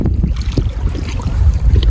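Steady, loud wind buffeting the microphone outdoors on a fishing trip, a continuous low rumble with gusty fluctuations throughout.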